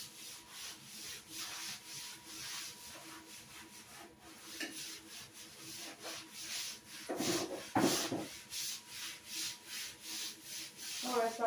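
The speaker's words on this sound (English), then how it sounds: "I'm going to scrub this" A bathtub scrubbed by hand gives rhythmic back-and-forth rubbing strokes, close and fairly soft, with a brief louder scraping burst partway through before the steady strokes resume.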